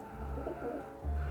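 Racing pigeons coo softly inside a loft, a low, faint murmur of calls.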